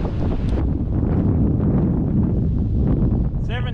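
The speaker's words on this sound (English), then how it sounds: "No wonder it's windy." Strong wind gusts roar across a sailboat on the water at about 17 knots, a steady loud rush filling the whole stretch with a brief whistling tone near the end.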